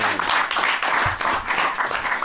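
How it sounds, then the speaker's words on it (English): Loud, sustained applause from a crowd, steady clapping filling the whole stretch without a break. "Give a round of applause"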